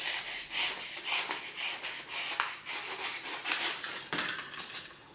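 Knife slicing through craft material to make stairs for a Christmas village, with repeated rhythmic scraping strokes close to the mic, about a dozen rasping cuts that end in a sharper final stroke, no voices.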